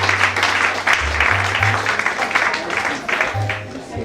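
An audience applauds a woman after her performance at a cabin crew event, a steady wash of clapping over a low hum.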